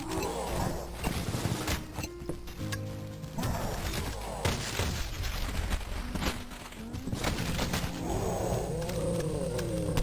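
A harvester enemy attacks in the retro shooter Cultic amid dense, continuous combat noise of growls, thuds and rumbles that fills the whole stretch.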